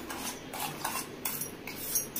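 A spoon whisks beaten egg in a bowl, rhythmic quiet clinks and scrapes repeating about every half second.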